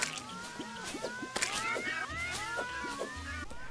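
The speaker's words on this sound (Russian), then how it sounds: "Снаряды подвержены гравитации, они оставляют после себя радужный след и мяукают при отскакивании." Cat-head projectiles fired from a sword in Terraria meow repeatedly as they bounce, in a quick overlapping series of short, bright mews over light game background sound.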